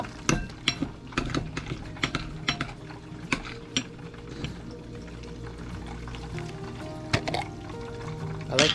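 Ingredients mixed in a bowl with a tablespoon of sugar just added, giving a run of sharp clinks and taps of a utensil against the bowl, loud and close, irregular at first and then busier toward the end.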